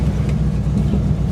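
A Buick car engine, just started after repairs, runs at a steady low idle rumble, loud and close, with no talk over it.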